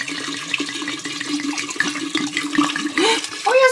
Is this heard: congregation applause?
no